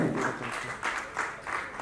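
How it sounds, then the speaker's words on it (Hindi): Audience applause at an award ceremony in Jaipur, a steady patter of many hands clapping with gentle swells in intensity, fairly close and uninterrupted by voices. "आप सबसे निवेदन है कि आप एक दूसरे के सम्मान में तालियां बजाते हैं।"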